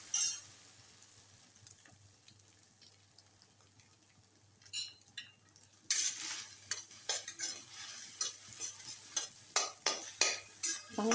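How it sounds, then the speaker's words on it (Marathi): Eggs scrambled in a pan for anda bhurji, first a quiet low sizzle, then louder rhythmic scraping strokes of a spatula and bursts of frying, close and alone without talk. "ते अंडी चांगली आपल्याला भाजून घ्यायची."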